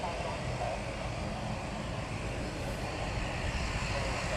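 A QantasLink Dash 8 turboprop airliner at Honolulu Airport gives off a steady broadband engine roar at moderate distance, continuous throughout.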